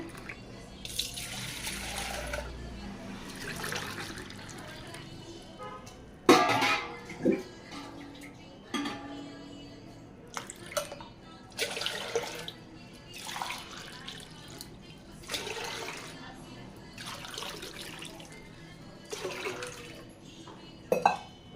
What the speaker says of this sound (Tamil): இதால் நான் 4 டம்ளர் தண்ணி ஊற்றுறேன்.